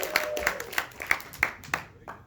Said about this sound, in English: give a big round of applause to Zack White.